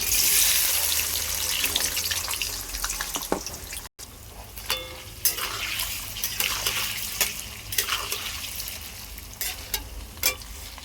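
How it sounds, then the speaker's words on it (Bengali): Paneer fries in hot oil in a wok with a continuous hiss and crackle, while occasional sharp clinks and scrapes from stirring come through near at hand. "এবার আমি পনিরটা এর মধ্যে ভেজে নিব।"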